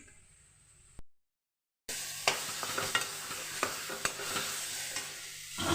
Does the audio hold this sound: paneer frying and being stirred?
yes